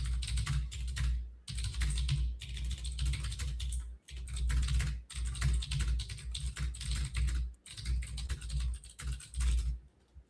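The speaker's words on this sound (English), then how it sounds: "I'm going to need that logic to mute the keyboard because I'm sure it sounds like I am just pounding rocks over here" Rapid, heavy typing on a computer keyboard during a live tech stream, a dense clatter of keystrokes close to the mic with brief pauses between bursts, no voices over it.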